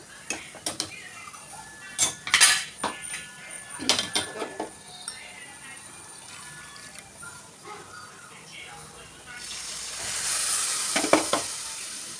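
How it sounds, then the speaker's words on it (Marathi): Hot water hits sizzling black masala in a pan, first heard as scattered clinks and scrapes of a spoon against the vessel, then as a loud, steady hiss of sizzling near the end. A person talks between the clatter. "आणि यात गरम केलेलं पाणी आपण टाकून घेऊया"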